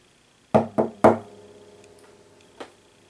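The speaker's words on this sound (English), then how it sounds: "he knocked on the door." Knocking on a door: three sharp wooden knocks in quick succession, close and loud, with a short decay, followed by a fainter single tap about a second and a half later.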